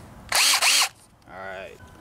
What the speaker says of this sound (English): I'm going to drill down to right here, which will be the quarter inch hole